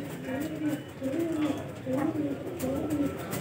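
Golden pigeons coo in soft, repeated rolling calls close by, with someone talking over them.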